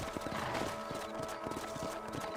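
Horses' hooves pounding in Red Dead Redemption: a fast, steady clip-clop rhythm of galloping, moderately near, over a continuous layer of game ambience and music.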